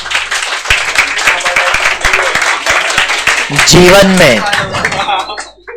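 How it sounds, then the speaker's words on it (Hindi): Students in an accounting lecture clap loudly, sharp individual claps over a dense burst of applause, with voices rising over the clapping near the end before it dies away. "जल्दी छोड़ने के लिए ताली बजा रहे"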